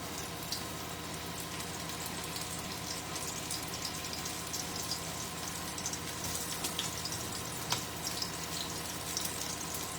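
Herb pork sizzling steadily in a hot pan, a continuous dense crackle and hiss with scattered pops, close and fairly loud, no voices.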